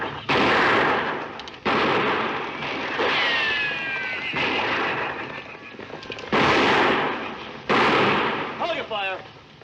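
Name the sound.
gunfire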